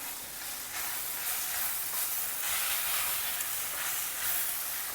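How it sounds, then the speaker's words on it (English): Soaked poha being stirred and fried in a pan over a reduced flame, a soft continuous sizzle with gentle rhythmic stirring swells, fairly quiet and with no voices. "Reduce the flame and add this soaked poha to it. Mix everything well together."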